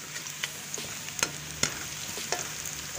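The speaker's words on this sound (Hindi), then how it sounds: "प्याज शामिल कर रही हूँ। हमारा फ्राई हो गया है।" Onions frying in a pan for kadhi pakora give a soft, steady sizzle, broken every so often by sharp scrapes and taps of a spoon stirring them. Nobody speaks.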